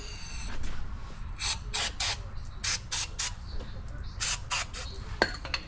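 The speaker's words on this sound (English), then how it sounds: "We may have to spray some cleaner in there too" Bursts of aerosol brake cleaner hiss in short repeated sprays onto the front and rear brakes of a 2014-2018 Dodge Ram 6.7L diesel pickup, close and fairly loud over a steady low background rumble.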